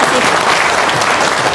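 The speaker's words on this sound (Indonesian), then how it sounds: "Yuk, tepuk tangan dong" An audience at an Indonesian religious gathering in Semarang bursts into loud, continuous hand clapping, close and filling the whole moment.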